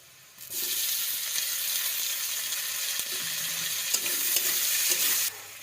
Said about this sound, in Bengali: এটা ভালো করে একটু মিক্স করে নেব, ভেজে নেব